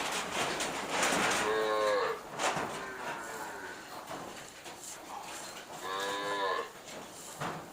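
Cattle low repeatedly at a buffalo and cattle market in Wang Prachop, Tak, Thailand. There are two long, loud, nearby moos and a weaker one between them, set against a busy background of clatter and distant noise.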